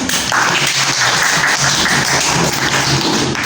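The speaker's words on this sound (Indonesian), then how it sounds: "Tepuk tangan untuk Mas Fauzi." An audience claps for a speaker in steady, dense applause that carries evenly throughout, fairly loud and close, with no voices over it.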